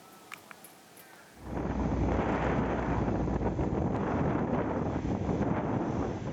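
Strong wind gusts during the Mount Semeru volcanic ash fall at Supiturang village, Pronojiwo, Lumajang, roaring loud and steady after a quiet opening, a dense continuous rush with no voices.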